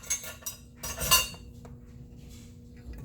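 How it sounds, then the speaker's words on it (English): A metal spoon scrapes and clinks against a bowl in quick bursts while stirring a yeast mixture, close by, then a few faint taps fade out. "Take my yeast, give it a stir"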